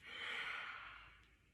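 A single slow exhale out through the mouth during a guided mindfulness breathing exercise, soft and airy, swelling then fading over about a second and a half.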